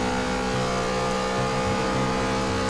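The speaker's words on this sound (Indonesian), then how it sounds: "Ini mesin Honda meraung, sangat keras." Honda car engine roaring loudly in the Test Drive Unlimited racing game, a steady, sustained drone with slight rises in pitch, close and alone.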